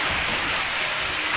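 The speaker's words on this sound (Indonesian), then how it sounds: "tapi kendalanya hujan seperti ini" Steady rain pours down in stormy, extreme weather at sea aboard a fishing boat, a dense, unbroken hiss close by with no voices.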